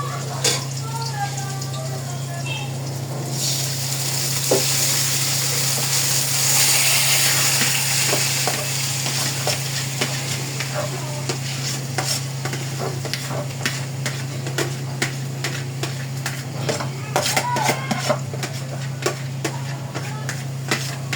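Beef added to softened onion and garlic frying in a pan for beef kaldereta, a steady sizzle with stirring scrapes and pops, close up, with a voice speaking over parts of it.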